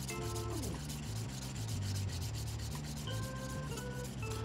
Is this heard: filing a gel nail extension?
yes